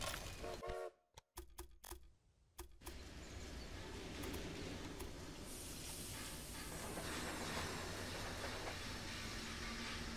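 Trains running on rails in the Railway Empire video game, a few sharp clicks first, then a continuous rumbling hiss of rolling wagons with faint clickety-clack, steady and fairly loud with no talk.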